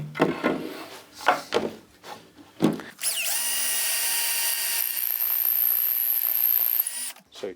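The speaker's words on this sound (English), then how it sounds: "So we drilled it." A power drill bores into a wooden folding camping table leg, whining loudly and steadily for several seconds after a few short knocks and handling sounds.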